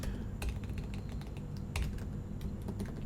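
Close, steady typing on a computer keyboard while writing JavaScript code, with quick irregular key clicks and a few louder strikes over a faint background hum, no voices.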